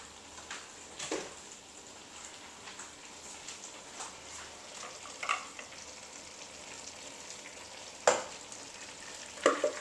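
Beans stirred in a sizzling pot while cooking New Orleans red beans and rice, with a soft steady frying hiss under occasional scraping stirs and a few sharper clinks, close but fairly quiet.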